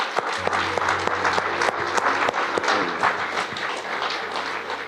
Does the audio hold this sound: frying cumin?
no